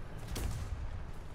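Shell or gunfire strikes nearby in a tank video game, a brief booming impact followed by sustained low rumbling noise, fairly loud with no talk over it.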